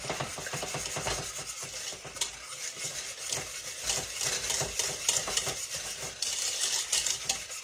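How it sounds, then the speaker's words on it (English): Eggs being whisked one at a time into melted chocolate and butter for brownie batter: a brisk, rhythmic whisk scraping and ticking against the bowl, continuous and close, with no talking. "put them 1 at a time in here and whisk it with that chocolate and the butter"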